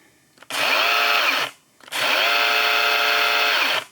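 Battery chainsaw revved twice in short bursts, each a loud high motor whine that spins up, holds and winds down, with a brief pause between runs.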